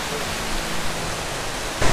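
The Trinidad cascade at Monasterio de Piedra roars as a constant broadband wash of falling water, steady and close, swelling slightly louder near the end.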